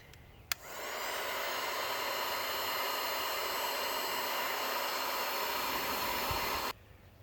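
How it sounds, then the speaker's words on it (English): A heat gun shrinks tubing over a crimped wire for a four-wheeler LED light bar. A click comes first, then a steady, moderately loud blowing hiss runs for about six seconds and cuts off abruptly. "Let's heat shrink it."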